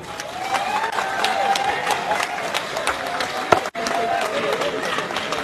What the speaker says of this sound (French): Tonnerre d'applaudissements, s'il vous plaît